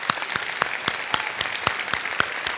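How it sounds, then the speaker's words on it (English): Sharp, separate hand claps ring out in a steady rhythm from a modest audience honoring award winners at the NTAC 2012 awards ceremony, moderately loud, with no voices over them. "give them one more hand of applause for all the work that they've done"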